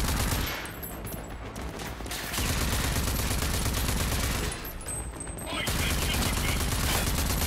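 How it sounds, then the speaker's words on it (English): Ranger assault rifle in the RAGE 2 video game, firing in dense sustained bursts with short pauses between them, loud and close, with game sound underneath. "There we go. Ranger assault rifle."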